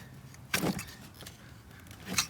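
Screwdriver pushed into an electrical plug clip on a Nissan interior panel, giving a short click-and-rattle of plastic and metal near the start, then a second sharp snap toward the end, close and fairly faint with no talk.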